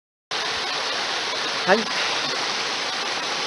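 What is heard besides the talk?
mountain stream flowing near Tenryukyo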